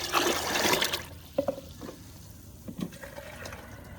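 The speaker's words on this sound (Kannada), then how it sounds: "ನಾನು ಇದರಲ್ಲಿ ಒಂದು 4 ಡಬ್ಬ ನೀರು ಹಾಕ್ತೀನಿ" Water is poured from a tin into a container with a brief rushing splash, then a few scattered drips and trickles.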